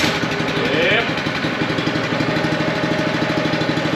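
A small skid steer engine that was reluctant to start in the cold catches and settles into a steady, close idle, with a continuous rumbling drone and a voice briefly audible over it.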